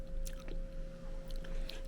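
Crunchy pickled green plum (maesil jangajji), beaten and steeped, being chewed in a few soft, moist crunching bites close to the mic over a quiet background hum.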